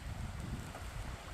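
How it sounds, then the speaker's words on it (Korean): Wind blows across a warm mountain campsite at Wangsan in Gangwon-do, heard as a faint, steady low rumble and buffeting against the microphone, with no other distinct sounds. "들리시나요? 바람 소리."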